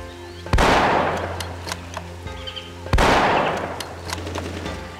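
Two sharp, loud gunshot blasts in Marine Sharpshooter 2 Jungle Warfare, each ringing out with a long decaying echo, spaced a couple of seconds apart over a steady background hum.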